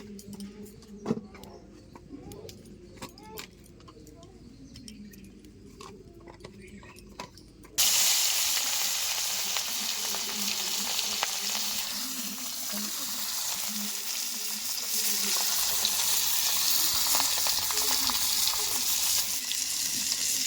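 Fish tail, salted and rubbed with turmeric, frying in white oil in a karahi: a loud, steady sizzle and spatter that jumps up abruptly partway through and keeps going; quieter kitchen clatter comes first.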